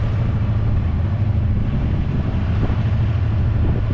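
A sailboat's outboard motor runs steadily at sea, a low continuous drone with wind rushing over the microphone and faint water noise, no talking.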